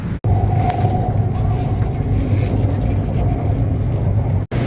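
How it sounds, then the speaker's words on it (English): Rumbling ride aboard Bangkok's BTS Skytrain at night, a steady loud low drone of the moving train with a faint tonal whine, continuous throughout with brief dropouts at start and end. "I just walked Boone down to the MRT, and I'm gonna jump on the BTS"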